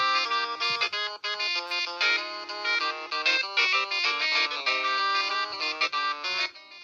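A Panasonic KX-PRW120 cordless telephone plays a ringtone for an incoming call, a loud, continuous electronic melody of bright tones close by with no talking.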